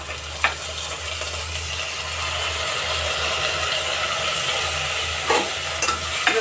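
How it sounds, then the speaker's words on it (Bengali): Washed lentils for khichuri are stirred and fried in a pan, giving a steady soft sizzle with occasional scraping clicks of the spoon against the pan, close and continuous without talk. "ভালো করে একটু ভাজা ভাজা করে নেব।"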